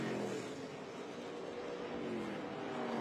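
Stock race cars in an ARCA Menards Series West race at Irwindale Event Center sweep through turns 3 and 4, a faint, distant, continuous engine drone that swells slightly as they run on.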